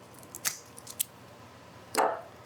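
Rooted air-layered plant stem cut off with a sharp cutting tool, several small crisp snips followed by one louder, longer crunching cut near the end, close up with no talking.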